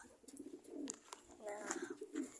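Pigeons coo softly close by in a loft, repeated low throaty purrs with a few faint chirps and a voice murmuring quietly.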